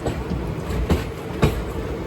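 Thiruvananthapuram Central–Tiruchirappalli Intercity train rolling past close to a roadside track, a continuous rumbling roar with a couple of sharp wheel clacks, moderately loud, no voices.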